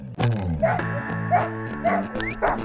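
Harnessed sled dogs eager to pull a scooter, yelping and barking close by in a rapid, excited string of howling cries.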